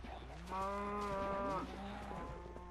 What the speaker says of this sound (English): Oh, I almost hit Spider Cow.